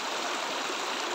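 Steady rushing of a rainfed stream flowing over rocks a short way above a waterfall, a dense continuous wash of water heard close and alone throughout.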